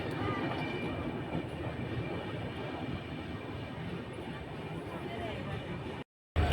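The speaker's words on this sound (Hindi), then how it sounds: "अब हमारी train Simri Bakhtiyarpur railway station से खुल चुकी है" A passenger train on the Janhit Express route to Saharsa runs steadily after pulling out of Simri Bakhtiyarpur station, a loud continuous rumble and rattle heard from inside, with speech over it before cutting off abruptly.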